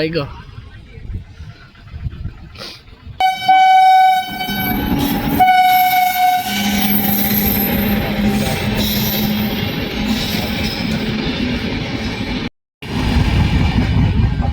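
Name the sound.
train arriving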